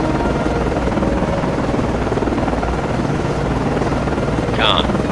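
A helicopter spins up on a guided missile cruiser, the USS Valley Forge, in the naval game Cold Waters, a dense continuous rotor and engine roar holding steady and loud the whole time.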